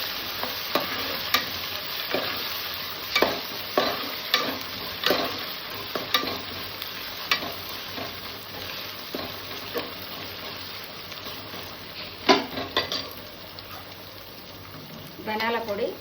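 Ginger paste being stirred into chicken curry frying in a pan, a steady sizzle broken by repeated scraping strokes of a spoon, close and fairly loud, with a voice talking at times.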